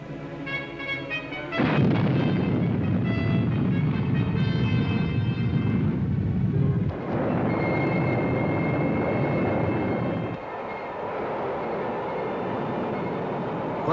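Nike Zeus missile test launch: a loud, sustained roar that bursts in abruptly and holds steady, shifts in tone partway through, then settles to a lower rumbling drone.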